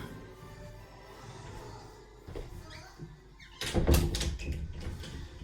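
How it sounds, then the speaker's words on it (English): A door is pushed shut in a room, a low scrape and then a solid thud near the end of the clip, heard close and fairly loud, with no one talking. "I'm gonna shut this door."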